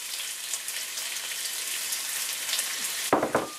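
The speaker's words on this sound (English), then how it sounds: "I love that sizzle." Diced medium onion sizzles steadily in hot bacon grease in a pan, a dense continuous frying hiss close to the microphone, with a few louder crackles and stir sounds near the end.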